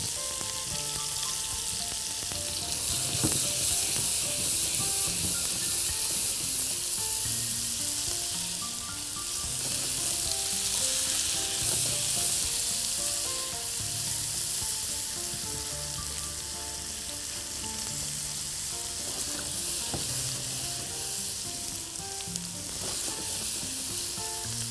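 Cheese-filled chicken kofta balls fry in oil over high heat, giving a steady, close, even sizzle that lasts the whole time, with no talk.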